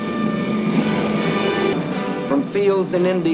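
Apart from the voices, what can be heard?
cargo plane taking off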